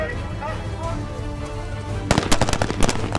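Rifle gunfire from soldiers on a live fire range engaging close targets, a quick cluster of sharp loud shots bursting out after a stretch of steady narration.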